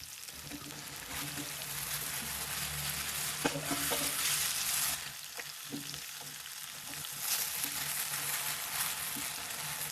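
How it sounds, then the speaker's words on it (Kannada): Okra fries in about a tablespoon of hot oil, a quiet, constant sizzle with intermittent scraping and stirring strokes of a spatula across the pan. "ಬೆಂಡೆಕಾಯಿ ಹಾಕೊಂಡು ಫ್ರೈ ಮಾಡೋಣ."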